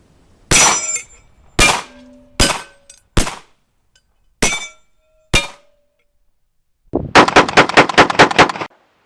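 A Mossberg 930 SPX 12 gauge semi-automatic shotgun fires outdoors on a cool day. Six loud, sharp blasts come spaced apart with metallic clangs, then a rapid string of about eight shots fires in quick succession, all close and with no voices.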